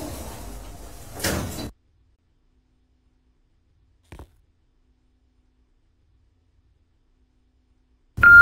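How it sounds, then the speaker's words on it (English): Elevator doors in the Roblox video game slide with a brief whooshing rumble that cuts off into silence, followed later by a faint click and an announcement chime. "doors opening."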